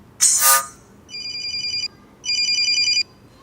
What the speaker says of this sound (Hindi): सिप्पी का फोन आ रहा है।